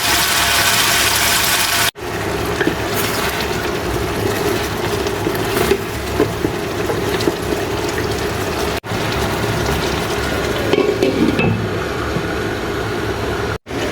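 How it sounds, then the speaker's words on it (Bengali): Fish with spices and a splash of water braises in a pan, giving a steady, loud bubbling sizzle that runs throughout with brief cuts and no talk. "একটু পানি দিয়ে দেবো, পানি দিয়ে সুন্দর করে কষাই নেবো।"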